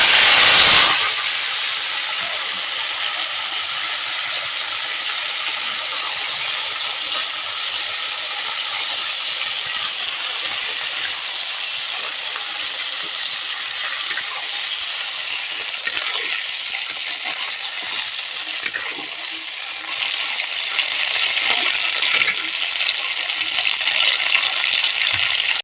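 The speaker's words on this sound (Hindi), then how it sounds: "तो अब हम यहाँ पर तलेंगे" Potato and onion vegetables frying in hot oil in a kadhai, a steady, close crackling sizzle with a sharp splash at the start, continuing unbroken for about twenty-five seconds.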